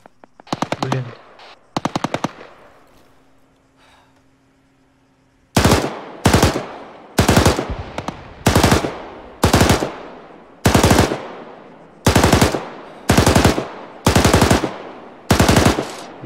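Gunfire in the military video game ArmA 3: two brief early bursts, then a long run of about ten loud, evenly spaced machine-gun bursts, each a rapid string of sharp cracks, with no talk over them.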